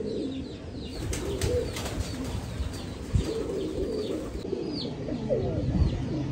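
A large flock of pigeons coos steadily and close by, overlapping throaty calls forming a continuous murmur, with a few brief wing flaps and scuffles mixed in.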